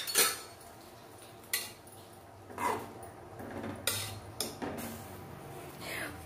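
Taro is stirred in a cooking pot with a metal spoon, giving a few sharp clanks and scrapes spaced irregularly over a quiet background.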